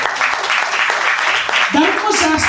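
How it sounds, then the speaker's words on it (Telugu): A congregation claps loudly at a Sunday church service in Tirupati, a dense, steady wash of hands with a voice speaking over it toward the end. "గట్టిగా చప్పట్లు కొడదాం మనం"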